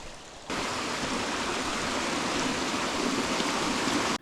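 A mountain creek in Kananaskis Country rushes steadily, a close, loud, even wash of flowing water that starts abruptly and runs without voices.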